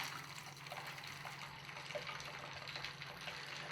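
Liquid pours steadily into a cocktail over a constant low hum, a soft continuous trickle and splash lasting a few seconds with no talking.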